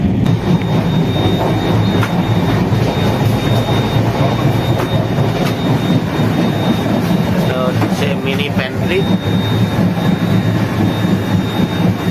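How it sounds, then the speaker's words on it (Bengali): Puri–Howrah Shatabdi Express running at speed on rails, a loud steady rumble and clatter from inside the carriage with a constant low roar throughout, joined by a short squeal of wheels near the end. "ট্রেন এখন খুলদা রোড পেরিয়ে চলেছে"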